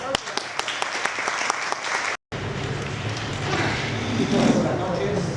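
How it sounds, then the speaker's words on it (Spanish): An audience at a talk on bipolar disorder breaks into applause, a run of sharp, close claps at first, then after a brief cut a fuller, denser wash of clapping from the crowd continues. "Un aplauso."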